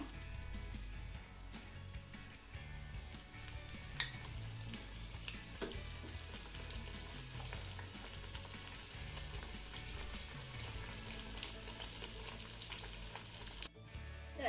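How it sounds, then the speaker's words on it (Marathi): Wheat flour vadis fry in hot oil in a kadhai, a steady, dense sizzle and crackle that runs continuously at close range with faint stirring and no talk. "आपण आता ह्या वड्या तळून घेऊया त्यासाठी कढईमध्ये आपलं तेलही चांगलं गरम झालेलं आहे आता यामध्ये आपण वड्या सोडूया"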